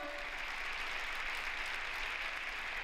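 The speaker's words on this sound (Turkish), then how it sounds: "Hepinize ayakta alkışlıyorum." An audience at an AK Parti women's branch congress in Istanbul applauds, a dense, steady wash of clapping from a large crowd that stays even throughout.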